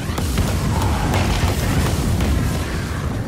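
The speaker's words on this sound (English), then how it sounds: "here comes the fire spell" A fire spell explodes in the video game Divinity: Original Sin, heard as a loud, sustained roaring blast of rumbling, crackling noise with scattered sharp pops, and no voices over it.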